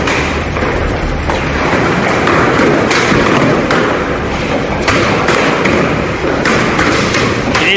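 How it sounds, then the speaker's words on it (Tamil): Dense, continuous pelting of hailstones drumming hard on surfaces during a thunderstorm in La Pampa, Argentina, a loud steady roar of impacts with no pauses. "அர்ஜென்டினாவில் உள்ள லா பம்பாவில் ஆலங்கட்டி மழை பொழிந்தது"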